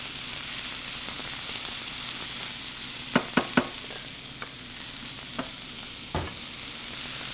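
A sloppy joe mixture of black beans and mashed beans cooks in a pan with a low, even simmering hiss, and a few sharp spoon clicks and taps come midway, near and without talk.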